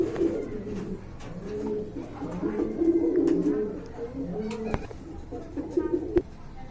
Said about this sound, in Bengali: এইখানে এক জোড়া খাকি কবুতর দেখতে পাচ্ছেন